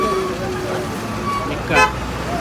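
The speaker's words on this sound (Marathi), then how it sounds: "ट्राफिक पण आहे भरपूर" Busy roadway traffic in Dapoli, a constant engine rumble with a short, loud horn toot near the end, while a voice talks over it.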